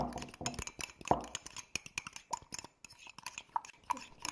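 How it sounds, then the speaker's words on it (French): Fork clinking and scraping in a bowl while mixing a batter, a quick irregular run of light metallic taps and strokes, close and fairly quiet. "mélangez à l'aide d'une fourchette jusqu'à obtenir un mélange homogène"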